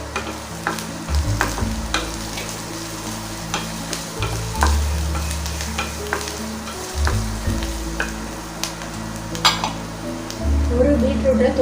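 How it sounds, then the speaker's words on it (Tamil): Chopped onions and two green chillies sauté in a pan for a beetroot side dish, a steady sizzle broken by repeated scraping stirs and occasional utensil clinks against the pan, close and fairly loud, with no talk. "வெங்காயம் இந்த அளவு வதங்கினா போதும். கூடவே 2 பச்சை மிளகாய் கட் பண்ணதையும் சேர்த்துக்கோங்க."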